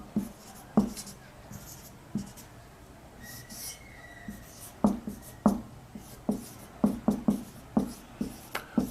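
Writing on a board during a chemistry lesson, heard as short, close, scratchy strokes that come in irregular bursts, more frequent toward the end.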